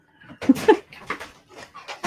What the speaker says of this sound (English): My big old dog.